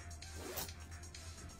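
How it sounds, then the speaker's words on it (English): A zipper on a bag is pulled open and shut in a quick, faint, close rasp over a steady low hum. "Nice smooth zipper."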